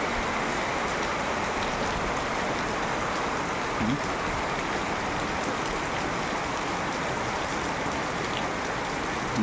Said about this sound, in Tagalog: pabugso-bugso po yung lakas ng ulan